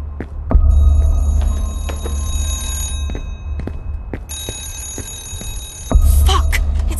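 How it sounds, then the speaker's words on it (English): A telephone in a video game rings from behind a locked office door: two long bursts of bright, trilling electronic ringing separated by a pause, with thumps and soft room noise around them. "A telephone! It's coming from Ashman's office."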